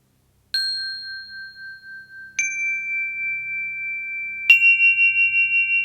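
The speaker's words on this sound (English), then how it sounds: "In this meditation, we'll begin and end with the chime." A meditation chime is struck three times at a calm pace, each clear bright ding ringing out and slowly fading into near silence, alone with no voices.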